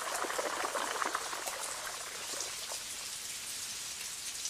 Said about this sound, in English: Spouts on the roofs channel rain into 2 courtyards.